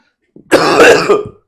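A single close, harsh throat clearing that breaks into a short cough, loud and abrupt, with no talking around it.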